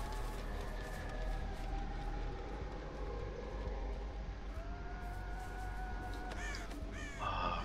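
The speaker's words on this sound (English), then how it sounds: "Freaking birds everywhere." Birds caw in a video game, harsh calls rising near the end over a steady, loud rumbling drone, with faint scattered cries throughout.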